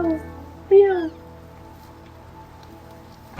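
A single loud, rising-then-falling mew from an elk calf near 0.7–1.1 seconds, over a quiet background hum, followed by a brief noise at the end.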